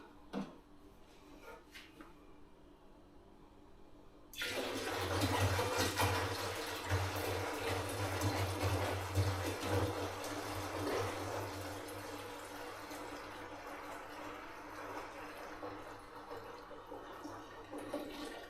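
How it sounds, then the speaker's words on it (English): Lukewarm water pours from a tap into a large plastic wine-making fermenter, a sudden gushing rush that starts after a few quiet knocks and keeps running steadily with a low hollow resonance as the container fills. "We're going to add enough water to take this right up to"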